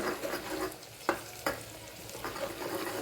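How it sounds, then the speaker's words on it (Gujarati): Gram flour frying in oil at the side of a pan while dal is being cooked: faint, steady sizzling and stirring with two sharp knocks of a utensil, heard close and quiet. "સાઈડમાં તેલમાં જ એડ કરીએ ચણાનો લોટ"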